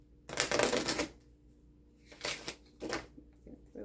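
Tarot cards being shuffled by hand, three quick bursts of riffling and flicking close up, the first longest, separated by short quiet pauses.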